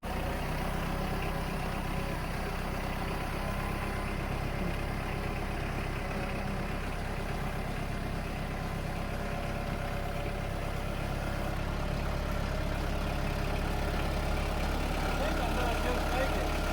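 A Hudson portable sawmill engine runs steadily throughout while cutting, a continuous close mid-to-low drone with broadband saw noise that holds level from start to finish, with voices partly audible under it.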